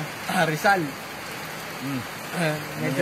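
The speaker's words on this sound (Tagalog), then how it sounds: "Umulan na nga. Hindi na ambun yan." Rain begins falling outdoors along a route from San Jose del Monte, Bulacan to Montalban, Rizal, a steady wash of patter running under nearby voices talking throughout.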